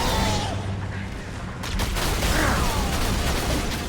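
Dense, sustained bursts of gunfire from the Halo video game crackle and boom continuously, close and loud, layered over mechanical clatter with no pause.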